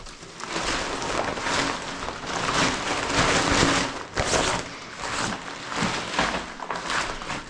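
Steady rain falls outside, a dense, continuous wash of hiss and patter with a few louder gusts or heavier bursts. No voices are heard over it.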